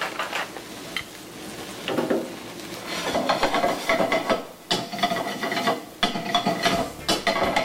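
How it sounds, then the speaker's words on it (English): Garlic, onion and green pepper sautéing in a pan, with soft sizzling under repeated clacks and scrapes of a utensil stirring against the pan, close up and fairly busy, with no voices. "Saute that up."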